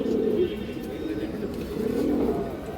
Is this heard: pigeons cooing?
yes